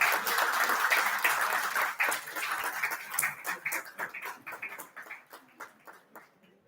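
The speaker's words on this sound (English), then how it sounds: "Guys, give a huge round of applause for them." Audience round of applause at a conference, dense clapping at first that thins into scattered individual claps and fades out.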